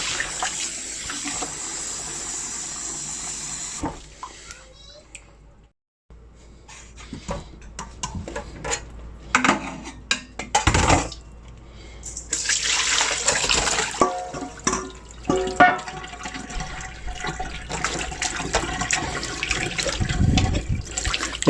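Tap water runs into a sink while skinned, fat-trimmed chicken thighs are rinsed, a close, steady splashing stream broken by a short silence and shifting gurgles as the meat is handled.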